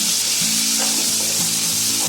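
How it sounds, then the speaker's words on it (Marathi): Curry leaves and onion fry in hot oil in a kadai, a dense continuous sizzle close up, with faint stirring scrapes and no voices. "आता त्याच्यामध्ये मी हा कढीपत्ता टाकते आणि हा कांदा टाकते"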